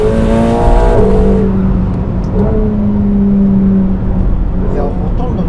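A McLaren 750S sports car engine revs and pulls hard under speech on a winding road, steady and loud throughout, with rising whine as it accelerates.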